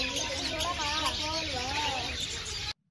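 Many birds chirping and calling together inside an aviary at a bird park in Thanjavur, a dense, busy chorus of twittering and warbling close by that cuts off abruptly after under three seconds.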